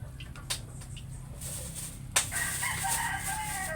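Rooster crowing with chickens clucking around it, a short crow breaking out clearly midway through against faint background noise.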